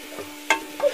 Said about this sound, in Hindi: अब देख सकते हैं हमारे जो प्याज हैं वो बिल्कुल अच्छी तरीके से भुन चुके हैं।